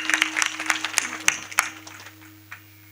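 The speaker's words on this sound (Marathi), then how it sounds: "टाळी वाजवा." An audience clapping at a comedic kirtan performance, a few seconds of scattered, uneven applause over a steady hum that fades out toward the end.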